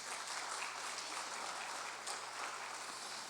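A church congregation claps together in sustained, even applause, a dense steady patter of many hands that fills the whole stretch at moderate loudness without any speech.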